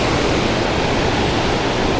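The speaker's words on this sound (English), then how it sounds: "Here's some of the waterfall right here." A waterfall seen from a bridge on a bike ride roars as a dense, steady broadband rush, loud and continuous with no voices over it.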